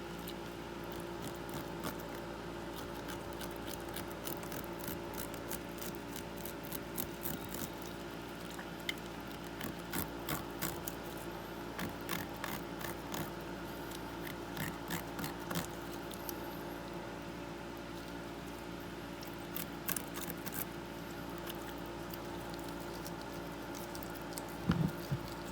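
A knife slicing through animal skin during taxidermy work, a long run of faint, close ticking cuts and soft squishy tearing in irregular bursts over a low steady background.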